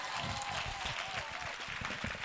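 Congregation clapping in a church during a service, a dense steady wash of applause close by and lasting throughout, with a voice sounding faintly over it.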